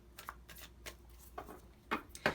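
Tarot cards being shuffled by hand, heard as a series of soft, close riffling bursts and taps at irregular intervals over a quiet background, with no talk.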